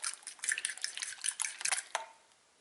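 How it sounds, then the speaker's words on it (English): Egg mixture sweetened with sugar is beaten in a bowl for French toast, giving quick, fairly close clicking and tapping of utensil against bowl in busy bursts that stop just before the end. "Beat it a bit until the sugar dissolves."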